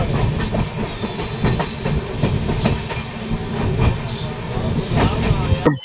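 Indian passenger train running with a general coach, steady loud rumble and clickety-clack of wheels on rails, with voices talking over the din throughout.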